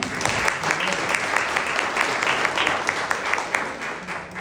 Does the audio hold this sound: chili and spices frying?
no